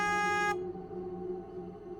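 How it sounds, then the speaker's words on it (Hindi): A loud, steady horn from a truck whose horn started sounding by itself blares close by for about half a second, then cuts off, leaving a low engine rumble. "मेरे ट्रक का हॉर्न अपने आप बजने लगा"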